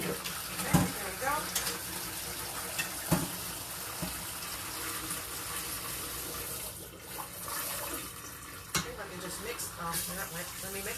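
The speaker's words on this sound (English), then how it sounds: "Got a new little faucet thing here that I'm figuring out how to get the sprayer to stay on." A new kitchen faucet sprayer runs steadily into a sink, a continuous hiss of water broken by a few sharp clunks as the sprayer is handled.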